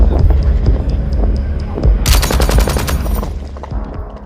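A machine gun fires during US Army combat simulation training in the Eagle Wrath 19 exercise: a rapid burst of shots in the middle over a steady low rumble, with quieter thuds before and after.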